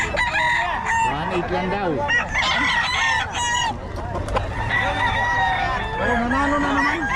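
Roosters crow and cluck at a cockfight in Bocaue, Philippines, with repeated drawn-out calls rising over a busy crowd as people talk loudly throughout.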